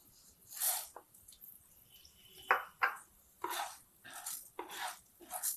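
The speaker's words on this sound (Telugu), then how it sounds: "ఇప్పుడు మినప్పప్పు వేయాలండి" Urad dal poured into a pan while making curry leaf powder gives scattered rattling and clattering bursts, close and fairly faint, with quiet gaps between pours.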